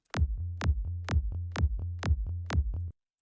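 Punchy tech house synth bass notes in a bouncy rhythm, each with a sharp attack and quick release, about a dozen hits over three seconds, alone.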